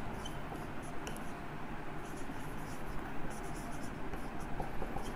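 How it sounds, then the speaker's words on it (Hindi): Chalk or marker writing on a board during a Class 10 chemistry lesson on acids, bases and salts, a steady continuous scratching that runs the whole time at moderate level. "हम लोग लिख लेते हैं"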